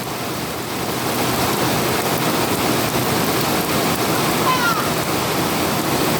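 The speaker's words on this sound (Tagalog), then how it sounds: "Grabe ang ulan." Heavy rain hammers down in a steady, loud wash of noise, unbroken for the whole stretch.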